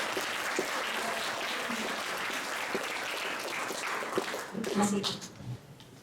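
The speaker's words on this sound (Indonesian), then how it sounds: "Tepuk tangan buat semuanya." Audience applause at a cooperative jamboree opening, moderately distant clapping from a crowd that runs steadily, with voices rising over it near the end.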